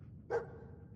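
Dog Meat, the dog companion in the video game Fallout 4, gives a single short bark, moderately clear over a low background hum.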